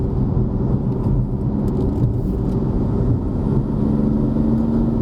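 BMW M4 fan car on a test drive at Genting, a steady engine hum and whirring drone inside the cabin, constant and fairly loud with a faint tone rising near the end.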